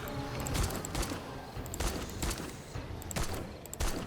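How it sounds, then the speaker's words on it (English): Gunshots fired at zombies during a horde night in the survival game 7 Days to Die, several sharp reports spaced irregularly over a busy, noisy game soundscape. "Plug a few shots into him."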